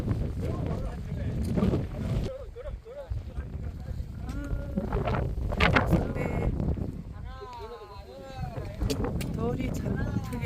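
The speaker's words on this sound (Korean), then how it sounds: "바람 바람이 너무 많이 불어요" Strong wind sweeps across Hambaeksan mountain near Taebaek, Gangwon, a steady low buffeting rumble against the microphone that persists under almost continuous talking.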